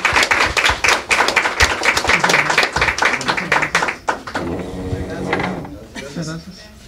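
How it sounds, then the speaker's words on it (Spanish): Audience applause at a job-orientation forum on human talent management in Palmares, a dense burst of clapping for about four seconds before it thins out and gives way to talk. "le damos un caluroso aplauso al licenciado Kendall Arce"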